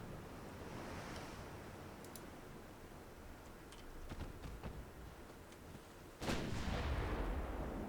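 Warship main guns firing armour-piercing rounds in a naval combat video game set in 1895, a steady rumble of sea and engine noise with scattered sharp reports, then one loud heavy blast near the end.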